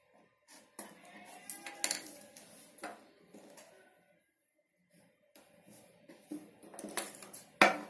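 Scissors cutting cloth for Punjabi dress pants, heard as close, intermittent metallic snips and clicks in irregular clusters separated by short quiet gaps, with no talking.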